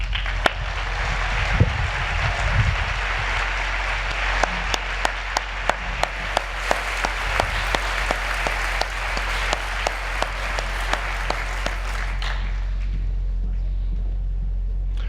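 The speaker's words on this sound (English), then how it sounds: "let me ask you to join me in giving the Brian San Quintet a very warm round of applause" An audience at a ceremony applauds a jazz quintet, sustained dense clapping with a few sharper individual claps standing out, fading out near the end over a low steady rumble.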